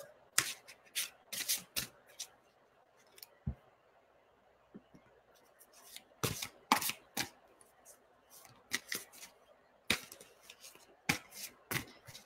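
Tarot cards are shuffled by hand in a quiet room, with sharp riffling bursts and soft slaps arriving in irregular clusters, close and clear, separated by near-silent pauses.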